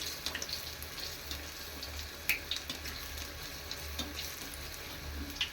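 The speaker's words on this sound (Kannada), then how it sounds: "ಬಿಟ್ಟಿದ್ದೀವಲ್ವ ಎಣ್ಣೆಯಲ್ಲಿ ಈ ರೀತಿ ಒಂಚೂರು ಎಣ್ಣೆನ ಮೇಲೆ ಹಾಕಬೇಕು" Chili bajji frying in hot oil, with a soft steady sizzle and faint bubbling running throughout, a few light clinks of a utensil near the pan, and no voices.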